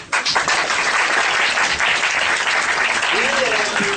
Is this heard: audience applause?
yes